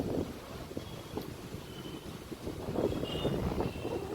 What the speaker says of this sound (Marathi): गॅलरीमध्ये मस्त वारा सुद्धा सुटलेला आहे